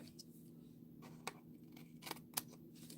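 Scissors trimming a strip of paper in a quiet room: a few faint, crisp snips spaced irregularly, the last one sharpest.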